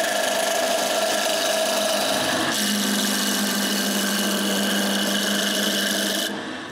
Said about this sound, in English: Now I can begin turning this. I begin by turning a nice cylinder.